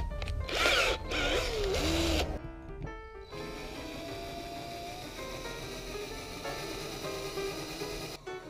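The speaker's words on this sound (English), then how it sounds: "for drilling this hole, I would recommend starting with a small pilot hole" A loud power drill whines in bursts at the start while boring a hole in metal pipe, then drops to a lower, steadier grinding hum with a faint rattle underneath.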